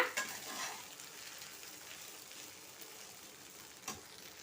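Coconut rice being stirred and mixed in a pan, a soft, steady scraping and faint sizzle running throughout at low volume, with a couple of slightly sharper clicks of the spoon against the pan.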